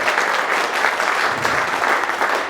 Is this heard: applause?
yes